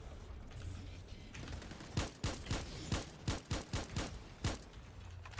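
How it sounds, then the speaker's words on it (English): Video game combat with a sticky grenade and gunfire: low ambient hum, then about nine sharp, loud, separate shot-like blasts in a quick uneven burst near the end. "Let me try to get an explosive on it. And go sticky grenade."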